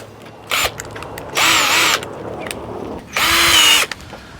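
A power drill bores an 8.5mm hole into a caravan awning post in three loud, close bursts: a brief first one, then two longer runs of steady whine with quiet gaps between them.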